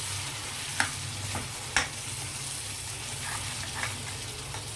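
Dried prawn and gongura curry sizzling in a pan while being stirred, a steady close frying hiss with a few sharp clinks of the spoon against the pan, no voices.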